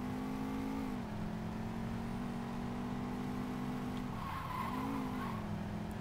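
A car drifts in Saints Row 2, its engine droning steadily with a continuous tire-skid whine that dips and swells, heard at low level without talk.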